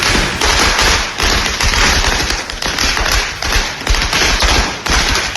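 Fireworks set off by Congress workers and students in a celebration crackle and pop in a loud, rapid string of sharp bursts, close by and continuous, with no talk.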